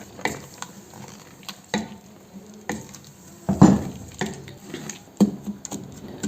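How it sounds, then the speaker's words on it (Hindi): A spoon stirs carrot kheer with cardamom and sugar in a pot, giving soft intermittent scraping and swishing strokes with a few louder clacks against the pot, close up and without talk. "चलें जी, अब इसको मिक्स कर लेते हैं।"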